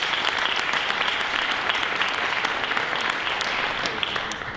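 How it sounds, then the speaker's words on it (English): Steady round of applause from a seated audience for a discussion panel, dense clapping throughout that tapers slightly at the end. "Let's give another round of applause for all of our panelists."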